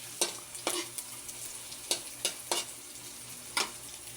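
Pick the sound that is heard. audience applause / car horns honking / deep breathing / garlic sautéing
garlic sautéing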